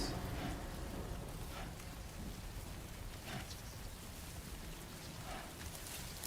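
Steady Oregon rain falls in a constant hiss of drops on surfaces, with faint low rumbles underneath, continuous and fairly quiet throughout.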